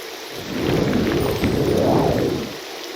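Steady rain with a rolling rumble of thunder that swells and fades, heard in the modded Morrowind video game in a landscape of huge mushrooms and stone spires, loud and continuous with no talk.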